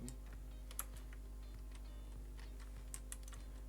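Fingers tapping on a computer keyboard in a quiet room, a steady run of light, close key clicks with a few sharper strokes over a low electrical hum.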